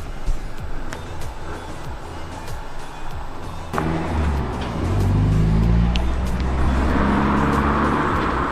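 A car starts up and drives off into the night, its engine rising from a low rumble to a louder, steady roar as it accelerates away, heard alone with no talk.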